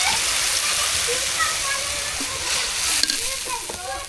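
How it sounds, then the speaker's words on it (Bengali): Loud, continuous sizzling of ginger-garlic and chilli spice paste frying in a pan, with faint stirring scrapes and a voice speaking over it. "পেস্টটা ভাজা আমার হয়ে গেছে, এখন একটু পানি দিয়ে দিই"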